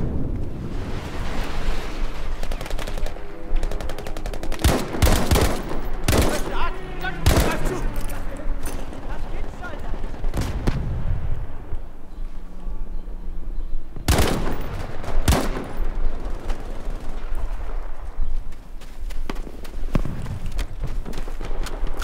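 Automatic gunfire in Battlefield V, with repeated sharp bursts cutting through a constant background of wind and surf-like ambience. The shots come in clusters of varying loudness, and a voice is heard over the game.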